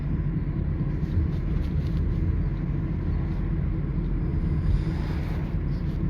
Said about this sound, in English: So if you hear this noise or wobbling sound in your vehicle, that's definitely the wheel bearing need to be replaced.